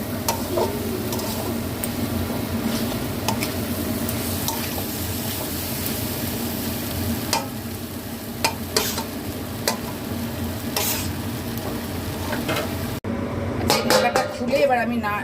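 Fried egg and onion-stalk fritters being stirred into spiced masala in a pan, a continuous sizzle and frying crackle with scattered spatula scrapes and taps, a few louder clinks near the end.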